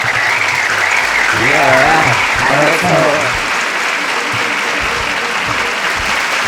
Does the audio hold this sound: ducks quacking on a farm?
no